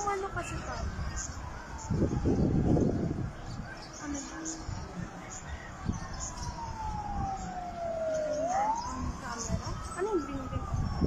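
Fire truck sirens wail at a neighborhood fire in Barangay Ugong, Valenzuela, rising and falling over street noise and engine rumble while people talk nearby.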